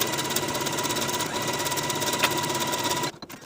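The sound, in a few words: sewing machine stitching a T-shirt sleeve hem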